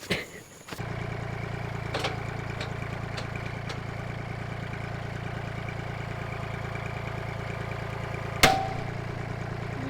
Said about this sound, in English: let's get the tractor